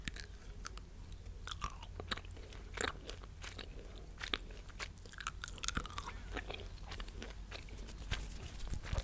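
Gum being chewed right up against the microphone, soft wet smacks and crunchy clicks in an irregular, continuous rhythm at a quiet level with no talking.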